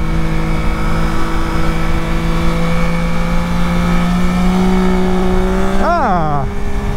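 Yamaha Tracer 9 GT+ touring motorcycle engine under way, a steady loud drone holding pitch, then a sharp rev rising and falling near the end, with a voice talking over it.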